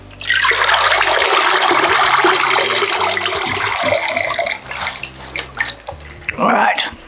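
Water rushes and splashes as soaked grape vine leaves are drained, a loud steady pour that breaks into uneven trickles and gushes toward the end.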